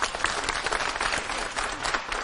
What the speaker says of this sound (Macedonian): Најсилен аплауз за тоа,